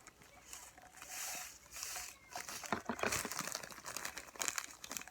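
A plastic baggie is handled and crinkled at close range, giving soft irregular rustles and sharper crackling bursts that grow busier toward the end, with no talking.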